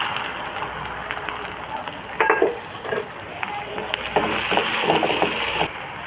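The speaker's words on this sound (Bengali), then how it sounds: "এবার ওই তেলেই দিয়ে দেবো পেঁয়াজ কুচি।" Chopped onion dropped into hot oil left from frying fish sizzles with a steady hiss, with occasional clinks and scrapes from stirring; fairly close and moderately loud, with a voice briefly speaking over it.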